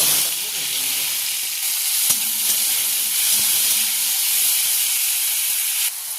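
Chopped tomato fries in hot oil in a wok, with a loud, steady hiss and sizzle that runs unbroken close to the pan from start to finish.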